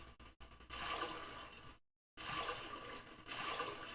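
A video game character jumps into water, setting off a loud, bright rushing splash effect that cuts off abruptly to silence and then starts again.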